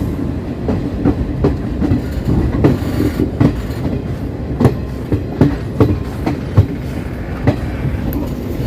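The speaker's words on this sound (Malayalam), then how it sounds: "ഷൊർണൂർ ജംഗ്ഷൻ റെയിൽവേ സ്റ്റേഷനിലേക്ക് ട്രെയിൻ എത്തിക്കൊണ്ടിരിക്കുകയാണ്" Garib Rath Express with ICF coaches arriving at Shoranur Junction, wheels clattering over rail joints in a steady rhythmic clickety-clack over a continuous rolling rumble, close and fairly loud.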